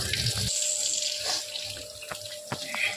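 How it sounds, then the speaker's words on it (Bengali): Biryani rice being rinsed under a running kitchen tap, water gushing and splashing steadily close by, with a few sharper drips and clinks of grains and pot. "এই চালটা আমি ভালো করে ধুয়ে নেবো সাদা"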